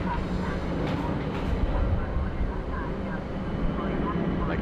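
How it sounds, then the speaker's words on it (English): Qatar Airways airliner taxiing slowly to its parking bay at Bangkok airport, a steady low engine rumble filling the whole stretch at constant level, with a faint voice present underneath. "So our Qatar Airways just finding her bay there."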